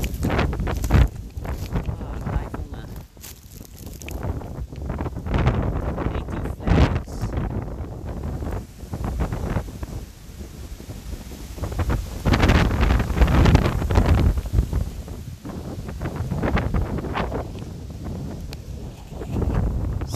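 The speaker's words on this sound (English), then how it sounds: "So it's very windy today, probably like 50-60k winds, and I'm on top of a peak." Strong gusting wind of about 50-60 km/h on top of Mt Beggary's peak buffets the microphone in loud, rumbling surges that rise and ease again throughout.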